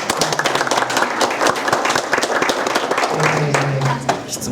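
An audience at a lecture and discussion meeting on Japan–Korea relations and peace in East Asia gives sustained applause, a dense wash of many hands clapping steadily, with some murmuring underneath.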